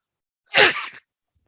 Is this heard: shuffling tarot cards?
no